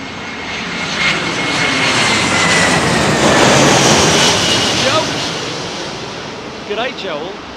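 Airliners arriving at Heathrow Airport in windy conditions, a loud sustained engine roar with heavy wind rumble across the whole stretch, swelling and easing, with a brief voice near the end.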